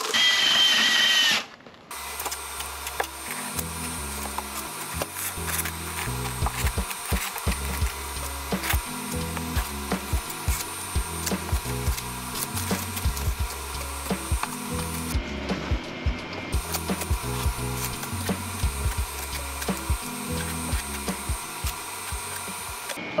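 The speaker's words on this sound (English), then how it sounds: "let's mix up some thin set." A drill mixer churns thinset mortar in a bucket, grinding steadily for about twenty seconds after a short burst at the start.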